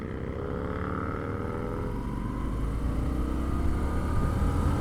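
A 2025 Indian Scout Sixty Classic motorcycle accelerates smoothly in second gear, its engine droning with a steadily rising pitch under wind rush, loud and continuous.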